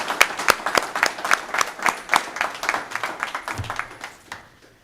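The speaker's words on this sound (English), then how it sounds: "Let's give them a round of applause." An audience at a school board meeting applauds, with crisp, fairly close claps from a modest group that gradually thin out and fade to quiet.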